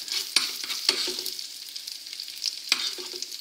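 Bananas frying in butter and sugar as a caramel forms, with a bright, hissing sizzle and occasional spoon clinks and splashes from basting, close and steady with no voices.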